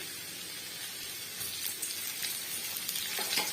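Chopped ginger, garlic and green chillies sizzle in oil in a wok for chilli chicken, a steady frying hiss that grows a little louder partway through, with faint crackles and no voices.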